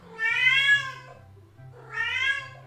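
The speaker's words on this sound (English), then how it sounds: "Oh, the cat's back." A house cat meows twice, two clear drawn-out meows separated by a short pause, close and moderately loud over faint low background hum.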